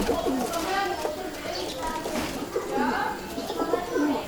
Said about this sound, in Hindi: ये भाई जी फिरोजपुरी कबूतर है